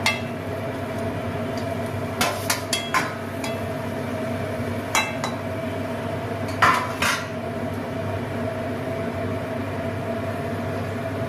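Fried shrimp tipped into a cooking pot of water for a snake gourd shrimp curry in a home kitchen: a few sharp metallic clinks and scrapes of utensil on pot in two bursts, over a steady low hum.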